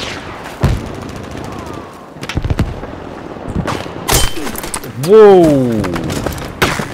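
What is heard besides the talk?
gunfire in the video game Battlefield 5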